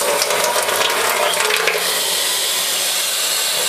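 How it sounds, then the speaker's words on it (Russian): Steady broadband hiss of water running from a tap, strong throughout, with a slight shift in tone partway through as the flow settles. "Открываю воду"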